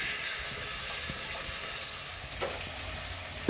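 Coriander seeds and black pepper dry-frying in a pan for mutton paya masala give a steady, soft sizzle and hiss that runs throughout, with a brief louder stir near the end.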